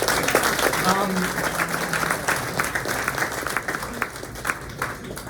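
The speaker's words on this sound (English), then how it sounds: "let's give them a round of applause" Audience applause at a high school boys' track and field banquet, sustained crowd clapping that thins toward the end, with some voices underneath.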